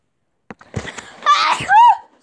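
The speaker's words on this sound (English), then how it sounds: "Sorry, that was a sneeze" One person gives a single sharp sneeze up close: a brief intake, then a loud explosive burst with a rising squeal at the end, against a quiet background.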